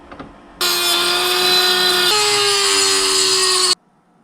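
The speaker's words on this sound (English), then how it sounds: "So I guess we can start by just hacking off the top, because it's threaded all the way through" A power tool cuts loudly and steadily through the threaded top of a metal NZXT Kraken G12 GPU cooler bracket, a single continuous whining cut of about three seconds that shifts pitch slightly partway through, then stops abruptly.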